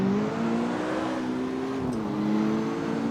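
A naturally aspirated V6 engine in CarX Street holds a steady, loud hum with a slight rise and dip in pitch, like a synthesized game engine revving under constant load.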